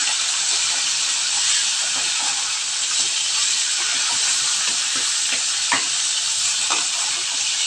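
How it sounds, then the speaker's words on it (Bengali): Fish deep-fry in hot oil for a curry with eggplant, giving a loud, steady sizzle and hiss with occasional crackles and pops throughout and no talking. "ডুবো তেলে মাছগুলো ভাজা হচ্ছে, মাছগুলো এখন উল্টে পাল্টে দেবো।"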